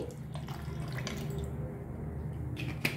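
Coconut water pours in a steady, close trickle over ice in a container, with a light, continuous splashing stream and a small clink near the end. No one speaks.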